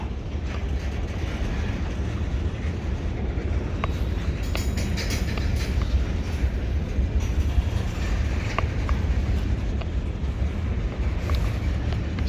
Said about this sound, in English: the ethanol train was blasting through